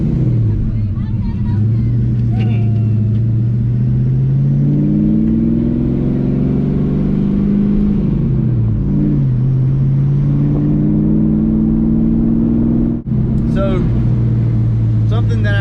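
A Fox body car's engine fitted with a Lunati cam idles and revs loudly up close, a steady rumbling drone that climbs and falls with throttle blips, while someone talks over it.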